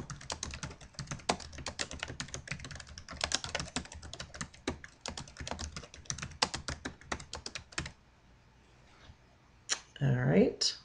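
Steady rapid typing on a computer keyboard, close and clear, continuing for several seconds before a short pause and a brief voice at the end.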